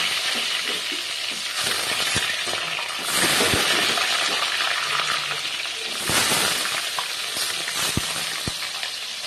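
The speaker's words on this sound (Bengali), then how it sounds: "আগে দিয়ে দেবো মিষ্টি কুমড়োগুলো, আমি ভেজে তুলে রাখবো।" Sweet pumpkin pieces frying in hot oil for a vegetable semolina khichuri, loud close sizzling with bursts of crackle as pieces are stirred, scraped and clinked in the pan.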